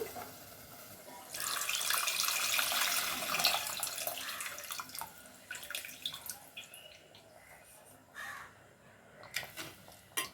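Tamarind juice is poured into a clay pot of fish curry, making a steady liquid splash and trickle that swells, then breaks into intermittent dribbles and small splashes, close and fairly quiet.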